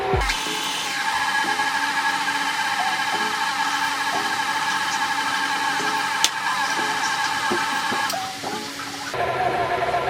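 Electric mixer beating oatmeal chocolate chip cookie dough, a steady close motor whir with faint rhythmic knocks of the beaters, briefly dipping near the end before resuming.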